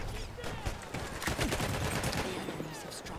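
Battlefield 1 gunfire with near shots fired in quick bursts, dense and loud over a busy battlefield background of game noise.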